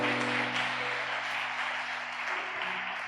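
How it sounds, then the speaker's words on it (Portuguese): A church congregation claps during a celebration service, a dense, steady wash of applause that holds at even volume throughout, with low sustained organ or keyboard tones underneath. "Dê um aplauso bem bonito para Jesus."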